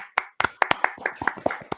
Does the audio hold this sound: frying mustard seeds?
no